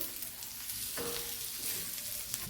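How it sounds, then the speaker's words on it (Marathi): Chutney of turmeric, tomato and chopped coriander sautéing over a very low gas flame: a continuous gentle sizzle with faint crackles and a light stir partway through, no one speaking. "गॅसची एकदम मंद ठेवून छान असं एकदा परतून घेऊ"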